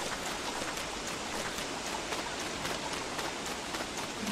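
Steady rain falls in the survival video game Don't Starve, a constant even hiss of droplets with faint pattering, moderately quiet and alone without talk.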